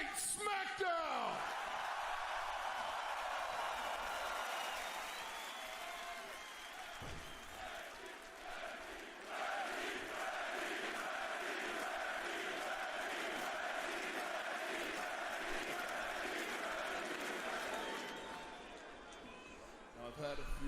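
A wrestling arena crowd at WWE Friday Night SmackDown in Berlin, Germany, boos and roars in a sustained, swelling wash of noise, with a voice speaking over it and a brief rise near the end.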